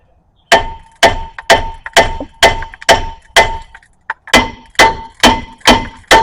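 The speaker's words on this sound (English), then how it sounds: "Let's give it a few whacks, see what happens." Hammer whacks on a rust-stuck front brake rotor of a 2016 Mazda CX5, about eleven loud, sharp metallic blows with ringing decay, spaced roughly half a second apart with one brief pause, close up and alone.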